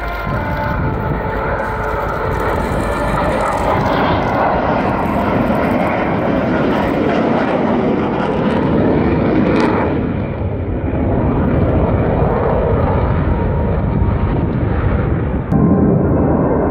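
A pair of Dassault Mirage 2000N jets lands together in formation at RIAT 2015, their engines producing a loud, continuous roar that holds steady throughout the landing.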